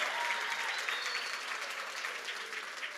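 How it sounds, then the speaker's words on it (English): Sustained audience applause at a technology event session, dense steady clapping from a crowd that fills the whole stretch without any voices. "Guys, you must clap for me when I come up."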